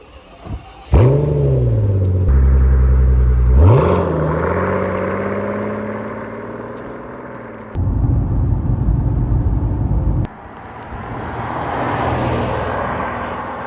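A Mercedes CL65 AMG running on fresh 98-octane fuel drives hard, its engine rising through loud revving pulls, easing off between shifts, then surging again before fading to a lower cruise.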